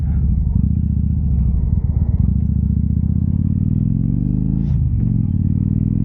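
A car passes on the road, heard from inside another moving vehicle. A steady engine rumble drones throughout, and a brief swoosh of the passing car comes near the end.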